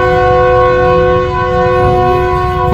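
A Pakistani passenger train's horn sounding before departure from the station, a loud, sustained harmonic blare held steadily for the whole stretch, close by and unbroken.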